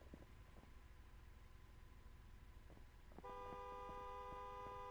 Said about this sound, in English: No, honking illegally too.